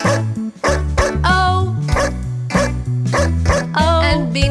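A dog barks in short repeated bursts, mixed into a loud sung children's farm song with steady backing music.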